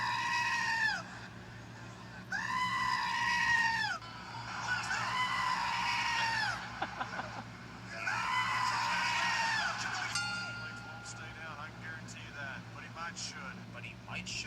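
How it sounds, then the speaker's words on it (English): A human goat scream sound effect, edited over a wrestler's scream at WrestleMania 29, bleats out in several long, wavering cries separated by short gaps, with noise and voices in the background. "Brock's scream inspires many to edit the famous human goat scream over his own."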